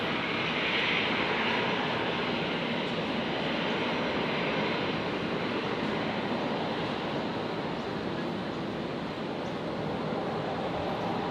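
An airliner arriving at Brisbane Airport from Sydney gives a steady, broad engine roar that holds at even loudness for the whole stretch, with no voices over it.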